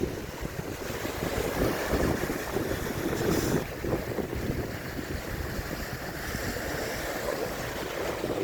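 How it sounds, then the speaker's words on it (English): Ocean waves washing onto a beach during a windy walk, a steady roar of surf with heavy wind buffeting the microphone, swelling briefly louder midway, no voices. "I love the waves and the water."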